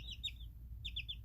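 A young pet chicken clucking softly indoors: two short bursts of quick, chirpy clucks separated by a pause, close and fairly quiet, with no talking.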